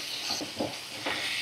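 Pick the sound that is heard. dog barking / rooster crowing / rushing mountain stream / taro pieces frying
taro pieces frying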